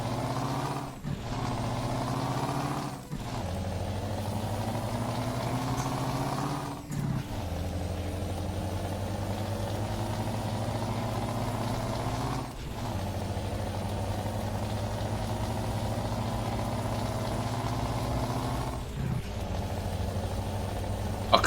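A Scania T cab truck engine in Euro Truck Simulator 2 drones continuously for about twenty seconds, its pitch stepping between several steady levels, with brief hissing breaks between them and no voices.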